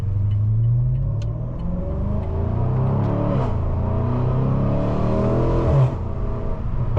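A tuned Stage 2 BMW G30 M550i with 700+ horsepower rumbles steadily while driving, a deep continuous engine drone with a brief swell near the end, heard close from inside the car with no talking.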